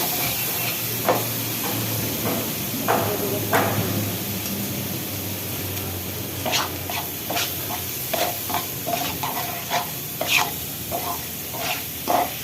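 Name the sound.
frying fish masala with turmeric and chili powder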